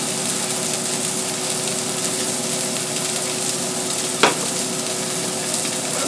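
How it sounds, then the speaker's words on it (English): Tuna medallions fry in fiery toasted sesame oil with a loud, steady close-up sizzle that runs unbroken, interrupted once by a brief scrape or clink partway through, with no one speaking. "I'm cooking it in some fiery toasted sesame oil"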